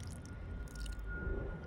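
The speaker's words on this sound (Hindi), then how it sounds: "आहिस्ते आहिस्ते से पानी डाल दिया।" Water is poured slowly onto young cabbage plants in garden soil, making soft wet squishing and soaking sounds. It is close and steady, with no voices.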